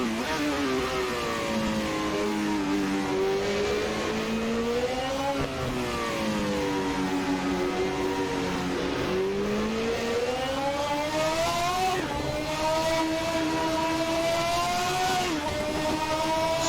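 Simulated 1991 Formula 1 car engine in Assetto Corsa, a loud continuous high-pitched wail rising through the revs, dipping sharply at each upshift and climbing again, several gear changes across the run with no talk.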